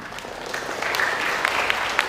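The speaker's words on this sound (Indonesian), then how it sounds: "Tepuk tangan untuk beliau." Audience applause at a BKKBN family-planning event in Jember, East Java, a short burst of clapping that swells and holds for about two seconds, moderately loud in a hall.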